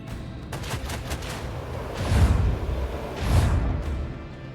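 Gunfire bursts in the video game Rogue Trader, two rolling volleys with a whooshing rush, heard alone without talk.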